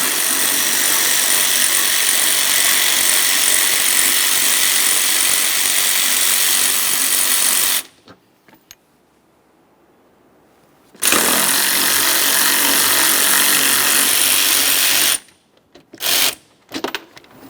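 Loud continuous whirring of a power tool or ratchet removing 10mm bolts during distributor replacement on a 1999-2006 Chevrolet Silverado 1500 4.3L V6, stopping for a few seconds, resuming, then ending in short bursts.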